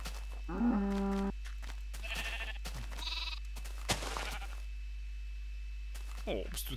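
Sheep bleat in Minecraft during farm animal keeping, one clear bleat near the start and fainter sounds after, with people talking over the game.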